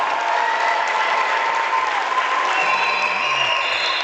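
Crowd applause fills a high school basketball gym as a Shelby Valley Wildcats senior enters the game, a steady, loud, continuous clapping throughout with no clear talk over it.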